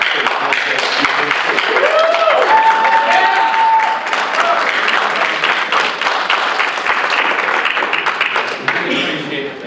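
Loud audience applause fills a city council meeting chamber, steady clapping from a crowd sustained throughout and only slightly tapering near the end, with voices mixed in.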